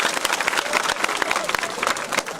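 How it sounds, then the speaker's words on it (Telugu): Audience applause at a gathering in a Hindu temple courtyard, dense steady clapping from many hands filling the whole stretch, loud and close with no break. "ఒకసారి గట్టిగా చప్పట్లు కొట్టండి అయ్యా."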